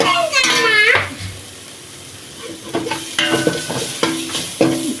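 Mushroom gravy ingredients sautéing in a little oil over a low flame: a soft steady sizzle with intermittent stirring scrapes and clinks, close by, with a voice speaking over parts of it.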